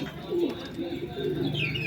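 Oman Teddy pigeons coo in a low, rolling burble close by, with a voice faintly present alongside the steady calls.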